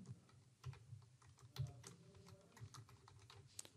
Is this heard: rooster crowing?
no